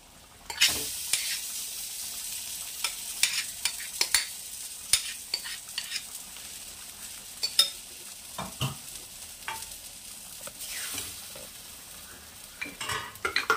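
Ground lentil paste fries with spices in a pan, a constant close sizzle punctuated by frequent sharp scrapes and knocks of a spoon stirring, with no talk.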